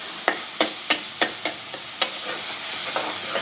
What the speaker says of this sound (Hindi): हम इसको मज़ीद थोड़ा सा भूनेंगे ताकि इसका ऑयल जो है वो अलग हो जाए